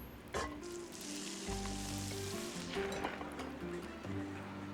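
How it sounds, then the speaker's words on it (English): Shrimp sizzle and fry for dinner in a video game, a steady close crackling hiss with light clinks and stirring sounds layered over a soft background music drone. "I do not have the cheese, but I do have the shrimp, so let's cook us up some dinner."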